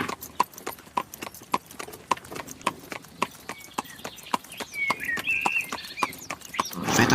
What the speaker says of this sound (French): Reprend son cheval, repart au trot pour rejoindre son château.